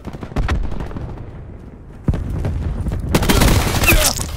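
Cluster grenade blasts in Call of Duty: Black Ops 4 multiplayer, a couple of sharp bangs followed by a burst of rapid, overlapping explosions mixed with gunfire, close and loud.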